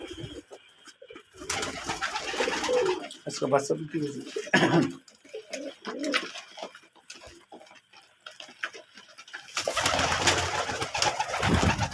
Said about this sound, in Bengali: এই যে কবুতরের বাচ্চা